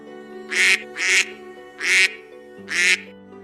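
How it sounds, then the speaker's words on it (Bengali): Four loud, drawn-out cartoon duckling cries in a row, evenly spaced, close and clear, with a steady tonal hum underneath. "হাঁসছানাটা নদী সাঁতরে পাড়ে উঠে আসে এবং সেখানে কান্না করতে লাগলো"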